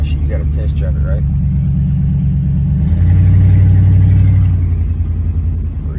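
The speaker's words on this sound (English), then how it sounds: "We're not gonna park it yet, we're gonna take it on a test drive." A Ford F-150 pickup truck's engine rumbles steadily on a test drive, the low drone rising as it accelerates midway and then easing off, with people talking over it.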